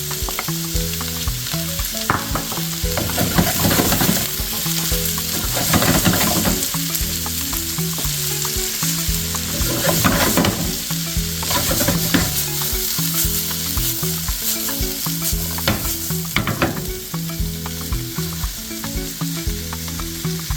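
Bell peppers stir-frying over onions in a hot pan for a spaghetti stir fry, a loud steady sizzle broken by repeated scraping and tossing strokes, close up with no talk, while a background beat of music runs throughout.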